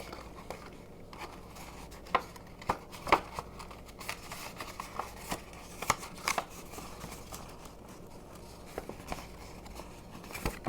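A piece of card paper is folded back and shaped by hand, making soft rustling, creasing and tapping sounds with scattered small clicks, faint and close.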